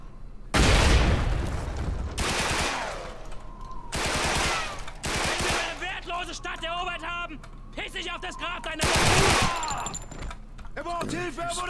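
Repeated loud bursts of gunfire ring out in a Call of Duty 2 Back2Fronts mod battle, several sharp volleys spread over seconds with echoing tails, while people shout and talk between and over the shots.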